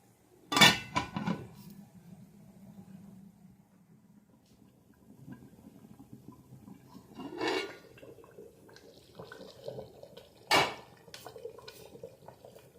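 A lid is set on a degchi pot of meat cooking with potatoes and peas: sharp metallic clanks at intervals, near and loud against a quiet kitchen with light bubbling and shuffling between.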